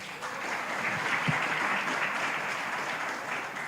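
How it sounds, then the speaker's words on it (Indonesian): Audience applause at a talk show-style discussion event in Indonesia, a steady wash of many hands clapping close and fairly loud, sustained evenly for several seconds with no talk over it. "Tepuk tangan dong."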